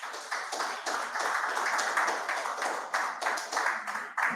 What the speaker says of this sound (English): Please give my team a round of applause.